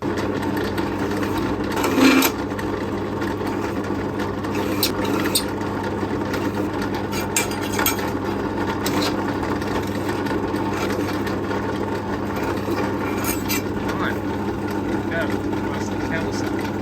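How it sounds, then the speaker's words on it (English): Drill press with a countersink bit deburring the drilled holes of a steel bushcraft knife blank, a steady motor hum running throughout with brief grinding bursts, while someone talks over it. "So I've just got the countersink drill bit in there now, and I'm just going to take all the burrs off"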